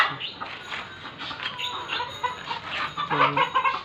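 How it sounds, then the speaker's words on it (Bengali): Native deshi chickens on a farm, a white hen among them, clucking in short irregular bursts close by, growing louder and more insistent toward the end. "আমার খামারে এখন একটা সাদা মুরগ আছে"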